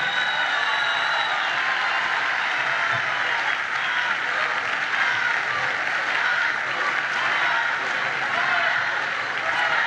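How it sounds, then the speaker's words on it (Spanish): A festival audience at a comedy show in Punta Arenas, Chile applauds in a dense, steady wash of clapping that holds for the whole stretch, loud and continuous. "Un aplauso también para nuestra soberana"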